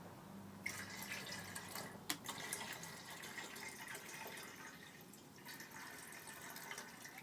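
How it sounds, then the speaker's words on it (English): Water is added while making soap, heard as a faint, steady trickling hiss with a few small splashes throughout. "I'm going to have to add a little bit more water to it."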